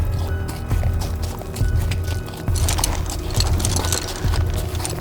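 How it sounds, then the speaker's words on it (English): Horses in a stable jump and run in an animated story, their hooves giving a rapid, rhythmic clip-clop thudding that stays loud and close throughout. "all of the horses too began jumping and running in their stable"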